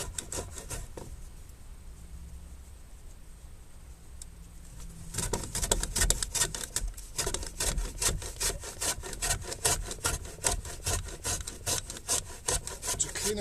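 Rasping and scraping on a tanalised wooden strainer post as it is cleaned up, a steady run of close, loud abrasive strokes after a quieter opening with faint birdsong.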